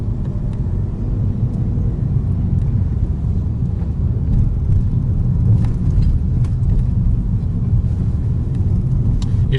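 Steady engine and road rumble inside a car driving through the town of Vouziers during a driving lesson, a continuous low drone with faint ticks and cabin noise above it.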